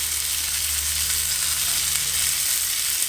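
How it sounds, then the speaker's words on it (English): Bacon frying in a pan over a camp stove, a steady, close, continuous sizzle and crackle with a low hum underneath, no voices. "anytime you got bacon frying in a pan, it always smells good"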